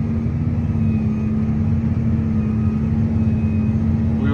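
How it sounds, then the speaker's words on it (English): A forage harvester chops hay and blows it into a wagon during a silage harvest, its engine a loud, steady, unbroken drone with a strong low hum running throughout, alone and close by. "We're out here chopping hay, filling the wagon."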